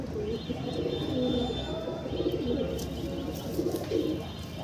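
Pigeons coo steadily in a loft, overlapping low rolling calls repeating throughout at moderate volume, with occasional light chirps.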